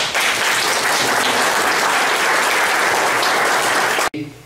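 An audience at a talk applauds, giving dense, loud, sustained clapping for about four seconds before it cuts off abruptly.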